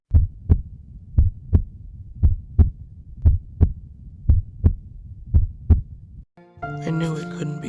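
A voice imitating a beating heart in a one-man vocal play: a steady run of about eleven deep, thudding double-pulse beats, close and prominent, then cut off by a brief burst of another sound.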